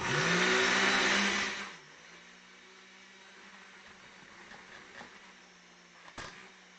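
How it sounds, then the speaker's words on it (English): A blender loudly grinds breadcrumbs for about two seconds, then stops abruptly, leaving a low steady hum and faint background rustle with a brief knock near the end. "I'm just going to use this blender"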